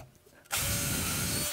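A close mechanical whir and grind of a power tool starts abruptly and runs steadily for about a second while the clamp on a Dowelmax doweling jig is tightened at the tip of a workpiece, then cuts off.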